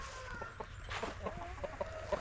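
Blue Wyandotte chickens cluck softly in short, scattered calls, with a faint farmyard hum in the background.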